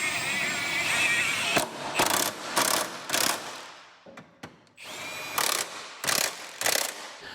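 A ratchet tightens bolts on an Acura MDX subframe, close, rapid clicking pawl strokes in rhythmic bursts of about a half second each, a brief pause with a few isolated clicks, then more strokes.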